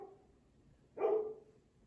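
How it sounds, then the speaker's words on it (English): A single short dog bark sounds once in a quiet room, moderately close. "My dog is barking and it's kind of distracting me."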